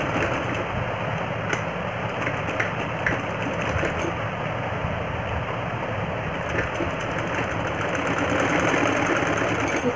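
An electric sewing machine runs steadily, stitching a double seam along the legs of baby pants, a continuous close mechanical whir with a rapid needle rhythm and no pauses.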